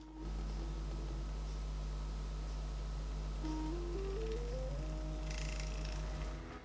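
Motorized budget camera slider running straight under a microphone, giving a faint steady electric hum with low whirring tones, then a series of stepped pitch rises as the motor changes speed, quiet and continuous.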